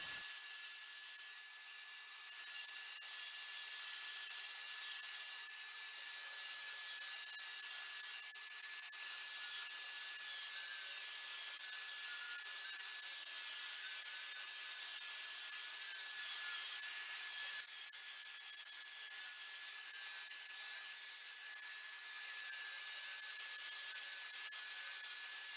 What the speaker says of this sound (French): je vais finir avec la petite ponceuse à bande